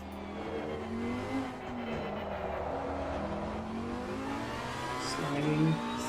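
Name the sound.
Lamborghini GT3 race car engine at Monza, sim racing video game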